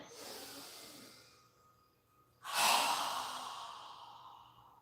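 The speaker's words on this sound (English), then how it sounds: "So go ahead and inhale. Strong exhale." A strong, forceful exhale during a yoga breathing exercise, a sudden loud rush of breath that tails off slowly after a softer inhale, close and alone with no talk.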